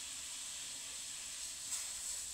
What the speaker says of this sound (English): And this is water that I'm supposed to be boiling here.